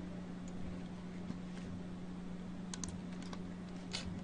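Soft, scattered keystrokes tap on a computer keyboard while a search term is entered into a search bar, faint and quiet above a low steady hum.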